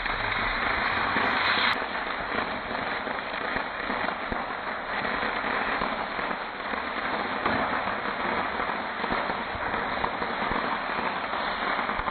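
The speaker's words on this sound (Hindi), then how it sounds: "यहाँ पे ये भाभी जी एक ज़बरदस्त पटाखा जलाती हैं।" Crackling bursts from a Diwali firecracker going off nearby, a sharp hissing blast at first followed by a long stretch of dense popping and crackle.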